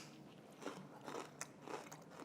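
Crisp crunching bites into celery dipped in dairy-free tzatziki, three or so close, crackly chews in quick succession, heard alone and quietly.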